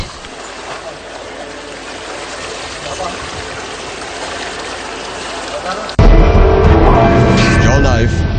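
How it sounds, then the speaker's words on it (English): River water from the Maniganga splashes and streams over Vasana the elephant in a steady, loud wash that grows heavier and closer partway through, with a voice speaking over it. "Vasana is being purified by the water of the Maniganga in order to perform her duties once"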